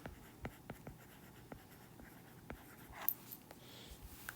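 Pen or pencil writing out an area-of-a-rectangle math problem by hand: faint, sparse scratchy strokes and taps at an irregular pace, quiet and close, with no speech.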